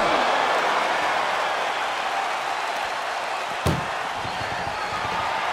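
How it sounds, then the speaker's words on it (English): An ambulance door slams shut once with a single sharp bang during a wrestling ambulance match, heard over a dense, continuous roar of arena crowd noise. "And they can slam this door shut."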